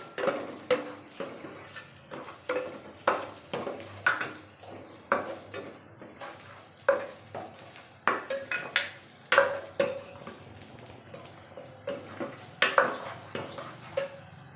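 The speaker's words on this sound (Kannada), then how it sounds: "ಈಗ ಇಷ್ಟು ಮೆಣಸಿನ್ಕಾಯಿ ಹಾಕೋಣ, ಹಸಿ ಮೆಣಸಿನ್ಕಾಯಿ. ಈಗ ಫ್ರೈ ಮಾಡೋಣ ಚೆನ್ನಾಗಿ." Green chillies added to golden fried onions and fried in a pan, heard as repeated clacks and scrapes of a spoon against the pan, fairly quiet and close, with only a faint sizzle beneath.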